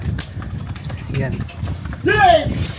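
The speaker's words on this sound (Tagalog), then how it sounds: "Yung mga kabayo pinagbubuhat na ng parang semento yata." Horse hooves clop on a hard stone surface in Santorini amid steady outdoor bustle and people talking, with a brief whinny-like call near the end; the horses carry loads like cement.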